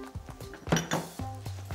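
Clinking glass and hard knocks as a glass mustard jar is set into a recycling bin among other glass, several quick clinks and taps close by, with no talk.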